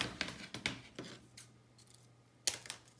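Scissors snip through a pipe cleaner while building a robot from recycled materials: a few quick close clicks early on, then a sharper final snip after a short pause, with no talking.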